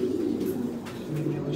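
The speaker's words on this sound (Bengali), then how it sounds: "এখানে প্রায় 70 জোড়া কবুতরের মতন ব্রিডিং আছে" Breeding pigeons kept in a loft of about seventy pairs, many sitting on eggs, coo in a low steady murmur throughout, fairly close and continuous, with faint background noise.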